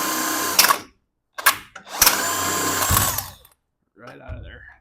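Weak-sounding impact wrench removing a bolt during a suspension upgrade on a muscle car, several loud buzzing bursts with hard rattling hits, separated by silent pauses.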